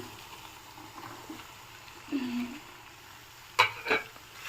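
Mashed potato with fried green chillies is stirred in a pan, quiet overall, with a couple of brief scraping strokes and a soft sizzle underneath.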